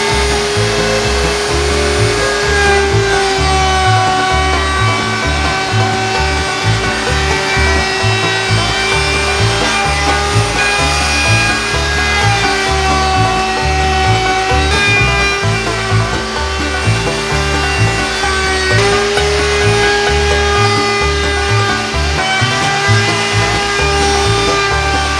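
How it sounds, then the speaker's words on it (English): Power tool rounds off the edges of a wooden cutting board, a loud, continuous whine over a rapid, rhythmic rasping grind, steady and close with no speech. "now we just have to round off all the edges on all the other cutting boards"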